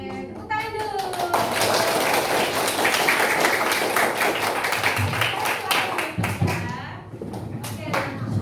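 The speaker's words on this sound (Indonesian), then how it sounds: "Oke, tepuk tangan dulu." A class of students clapping hands together in a classroom, a dense burst of applause-like taps that runs for several seconds, loud and close, with a teacher and children speaking around it.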